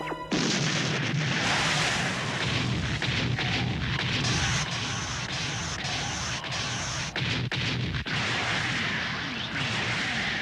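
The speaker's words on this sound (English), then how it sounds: "Keep firing! Our defenses are holding!" Cannons boom through an anime battle in a dense, loud, continuous roar of overlapping blasts and crackling impacts that fills the whole stretch without letup.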